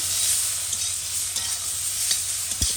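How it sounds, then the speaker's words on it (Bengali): Shrimp fry in a hot pan, seasoned with turmeric and salt, giving a steady close sizzle broken by the scrape and clack of a spatula being stirred through, with no voices. "চিংড়ি মাছ ভাজা হয়ে গেছে"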